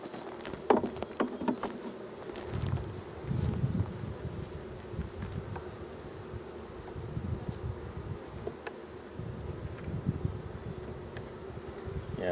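Honeybees buzz around an opened hive during a colony inspection, a steady low drone with scattered brief knocks and frame handling noises close by.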